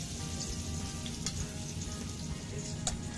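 Garlic and onion sautéing in a pan for chicken tinola made with native chicken, giving a steady, close sizzle with no break. Faint clicks of a utensil come through now and then.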